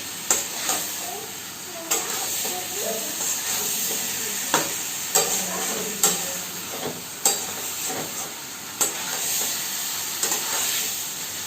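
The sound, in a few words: cauliflower and potato sautéing in pan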